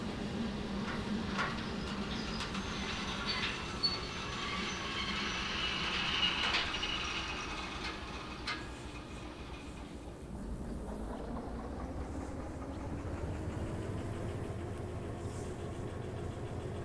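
A freight train carrying a load of pipes in Derail Valley slows under its brakes, a continuous rumbling roll with squealing and hissing that settles into a lower steady rumble partway through, moderately close and without voices.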